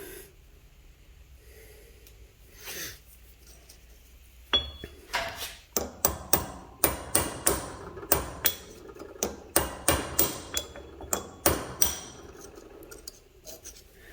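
A hammer strikes a U-joint held in a loosely mounted vise while working on a Jeep Wrangler JK front axle. About a dozen sharp metallic blows ring out in a steady rhythm after a quiet start.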